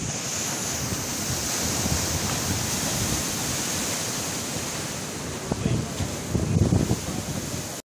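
Sea waves wash ashore with steady wind noise at Bekal Fort, a continuous broadband roar that swells a little louder near the end, with no voices.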